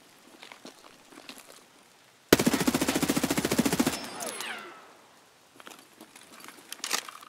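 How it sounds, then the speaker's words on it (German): In the Escape from Tarkov video game, a sudden loud burst of rapid automatic gunfire rattles for about a second and a half, then trails off with scattered debris and rustling, framed by quiet footsteps and faint shuffling before and after. "Noch Schüsse am Hafen."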